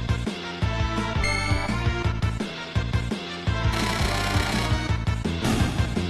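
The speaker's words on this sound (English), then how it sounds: "And then have Sky drill him." A drill attack in Final Fantasy VI: rapid, rhythmic mechanical grinding pulses, loud and close, layered over the game's background music.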